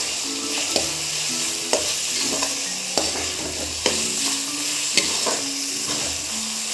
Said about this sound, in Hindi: 2 मिनट अच्छे से फ्राई करेंगे।